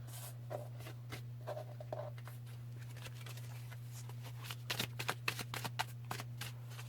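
A tarot card is drawn from the deck and laid down in a spread, with soft close shuffling and sliding card sounds over a steady low hum.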